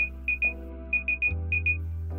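Over-temperature alarm of a Combat BRS v5 HIVEC system sounding a series of short, shrill electronic beeps in pairs and triplets over a steady low machine hum.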